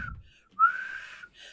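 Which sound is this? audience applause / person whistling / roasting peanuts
person whistling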